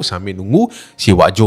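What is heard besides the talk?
None of the usual background noises is heard.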